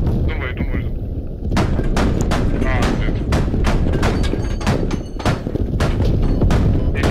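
Loud, dense gunfire and heavy booming blasts from rifles and RPG launchers in the military shooter game Squad, a near-continuous barrage of sharp shots with deeper explosive thumps and voices talking underneath.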